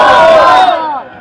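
A large gathering shouts a religious slogan in unison at a seminary event, a loud massed crowd cry that swells and then fades over about a second.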